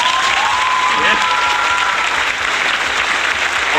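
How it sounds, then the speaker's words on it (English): Loud, dense applause from the crowd at a live music podcast show, a continuous wash of many clapping hands with cheering voices mixed in, sustained throughout. "Let's give them a big round of applause."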